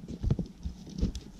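A goat kicks and stomps its hooves during coyote trapping, producing a quick cluster of close, dull thumps and scuffs over about a second and a half, with no talk.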